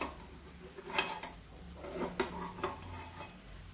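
Stuffed colocasia rolls, bharleli aalu vadi, are turned over in a pan after the lid comes off, giving soft scattered scrapes and clinks of a utensil against the pan over a faint low sizzle.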